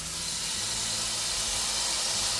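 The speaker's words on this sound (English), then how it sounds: "get the steak started searing. I want you to hear this sear up whenever I put it on here" Steak searing on a hot Ninja cooker gives a steady, close hiss of broadband sizzle that holds unbroken for a couple of seconds, with no talking over it.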